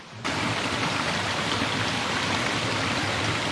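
Rain pours steadily during a woodland hike in the Morvan, a dense, even hiss of drops on surfaces that starts abruptly and continues unbroken, with no voices.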